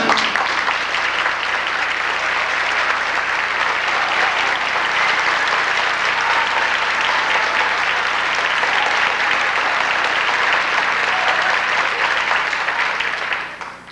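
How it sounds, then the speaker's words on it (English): A sustained audience applause for a kazoo soloist at a 1989 bottle band show fills the room, dense and even throughout, then tails off at the very end. "Please give a warm round of applause for Betty Sue Lou Fleming."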